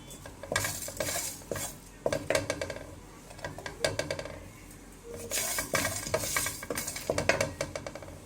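A utensil scrapes and stirs spice masala as it roasts on low flame in a pan for chicken kebab, giving repeated metallic scraping strokes and clinks over a faint sizzle, with no talk.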